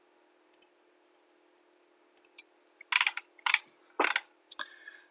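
Computer mouse clicks while working in CAD software: sharp, close, isolated clicks, a few single and double taps spread out, then several louder clustered clicks, with no talking.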